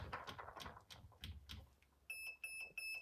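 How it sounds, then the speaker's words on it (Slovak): An airsoft gun's electronic processor being set up: a run of irregular clicks, then three short, evenly spaced high electronic beeps, loud and close. "Tak, potvrdím si 6 pípnutí a idem vyskúšať."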